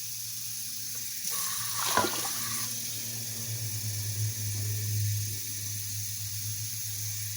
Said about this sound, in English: I'm just going to go ahead and add in my 12 cups of water